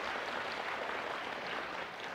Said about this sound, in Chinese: 我们先给这个老师鼓掌一下，好不好